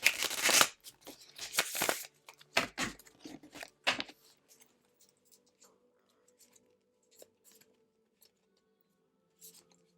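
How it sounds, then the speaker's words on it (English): Tarot cards shuffled by hand in quick dense riffling bursts over the first four seconds, then sparse soft taps and slides of cards in a quiet room. "I like to shuffle in front of my viewers"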